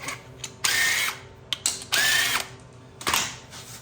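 A power drill backs bolts out of a 1967 Camaro SS during an LS engine swap, three bursts of high whirring with ratcheting clicks between them, close and loud.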